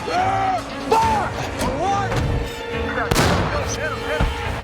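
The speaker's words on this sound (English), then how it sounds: "Hit that machine gun." Bursts of gunfire and booming explosions from a WWII war movie scene, loud and close, with shouting voices over the battle noise.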